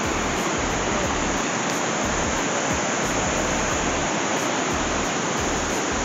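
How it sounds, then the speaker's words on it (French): A large mountain waterfall in the Italian Alps near Mont Blanc roars as a constant, dense rush of falling water, loud and unbroken, with no voices. "Et voilà la magnifique cascade."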